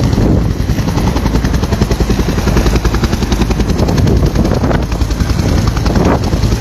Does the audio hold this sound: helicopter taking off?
yes